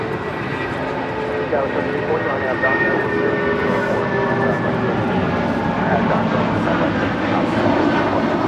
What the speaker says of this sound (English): This is United Airlines 2029 departing to Newark, New Jersey on 757-200.